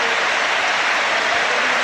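A 38,000-strong stadium crowd at a 1998 Arsenal versus Manchester United league football match gives a standing ovation, heard as dense, loud, continuous applause and cheering filling the whole moment.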